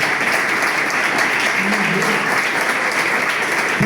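A church congregation applauding together, steady dense clapping that fills the room throughout without a break.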